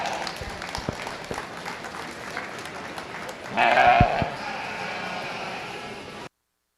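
Audience applause at a sheep show arena, a steady wash of clapping that swells louder for about a second midway, with a sheep bleating briefly in the crowd noise before the clapping settles and fades.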